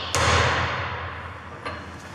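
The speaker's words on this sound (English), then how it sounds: "give it a smack with the hammer and chisel, see if it'll split" A sharp metallic hammer blow on a chisel against a Peugeot 308 front wheel bearing rings out loud and close, followed by a lighter second tap about a second and a half later, with workshop hum underneath.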